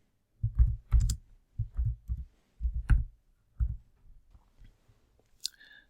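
Keys on a computer keyboard clatter in quick bursts of clicks as a title is typed, close up with brief pauses between groups of strokes and no talk.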